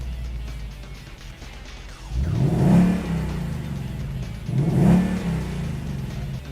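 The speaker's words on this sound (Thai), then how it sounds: "ในแต่ละโหมดที่เขาให้มาเปลี่ยนเสียงท่อ 4 แบบ มีความรู้สึกแตกต่างแน่นอนครับ" A car's exhaust revs twice in its most aggressive track mode, each burst of throttle rising and falling loudly over a steady low idle rumble, close by with no talk.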